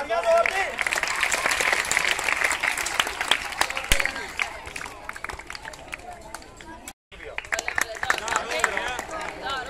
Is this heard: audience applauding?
yes